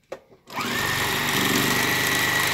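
Sewing machine stitching an appliqué edge onto a hooded towel, a steady, close motor whir that starts abruptly after a brief quiet handling noise and runs evenly to the end.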